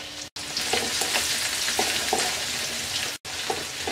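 Crushed garlic frying in oil with panch phoron makes a dense, continuous sizzle close-up, broken by a few stirring scrapes and two momentary dropouts, with no talking.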